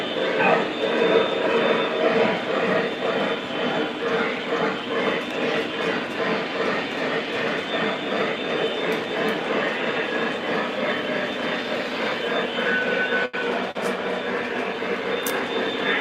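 A steam special train on a model railroad layout rolls outbound, a steady mechanical rumble with a faint rhythmic clatter running continuously, with a few sharp clicks near the end and no talk.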